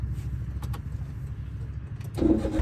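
A car engine starts during driving practice, with a low, close idle rumble running throughout and a louder surge near the end.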